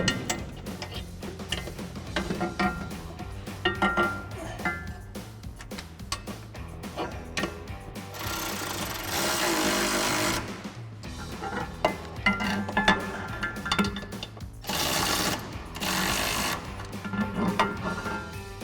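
Bolts are tightened on running board brackets of a 2019-2023 Chevrolet Silverado 1500. A ratchet clicks in quick repeated runs, with short louder bursts of tool noise close by.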